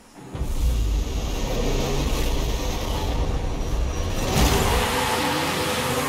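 A Lamborghini Aventador street race starting in Forza Horizon 5: a loud, sustained engine roar swells in within the first half second and holds steady with a brief surge near the end, with no talking.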